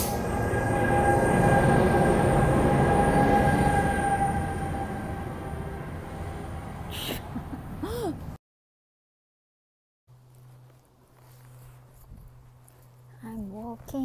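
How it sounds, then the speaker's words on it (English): A loud rumbling train passes close by in Vaudreuil, fading over several seconds, followed by a brief silence and then quieter background with faint voices. "Okay, bye-bye train."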